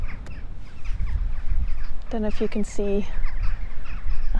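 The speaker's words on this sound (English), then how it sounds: "hundreds and hundreds of crows everywhere. You can probably hear them." Crows caw in a short burst of repeated harsh calls among a large flock at Avebury stone circle, heard outdoors over wind and ground noise while someone talks nearby.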